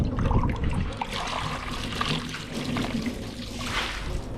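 Water pumped up from a 14-foot well by a hand pump and caught in a cup, splashing and trickling steadily and close by for the whole stretch without speech.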